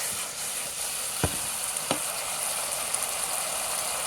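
Dragon chicken sauce with pepper and sugar sizzles steadily in a pan, a constant hiss broken by a few quick scraping stirs and clinks of the spoon.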